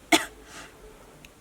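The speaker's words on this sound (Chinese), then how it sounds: "妈，你怎么咳嗽了？" A mother with a seasonal cold gives a single sharp, close cough near the start, followed by quiet room noise.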